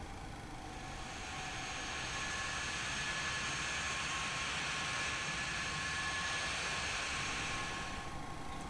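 A Boeing 737 jet taxis toward the runway in the X-Plane 11 flight simulator with a steady, even engine whine and rumble held constant throughout, no voices.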